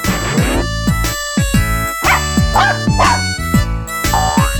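An animated story's cartoon puppy gives a series of short, sharp yips and barks, close and clear over a bright music track.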